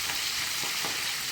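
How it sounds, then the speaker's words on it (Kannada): Fenugreek leaves frying in hot oil, giving a dense, even sizzle that is close and continuous throughout, with no talk. "ಮೆಂತ್ಯ ಸೊಪ್ಪನ್ನ ಹಾಕ್ಬಿಡಿ ಎಣ್ಣೆಲಿ ಬೇಯಿಸೋಕ್ಕೆ"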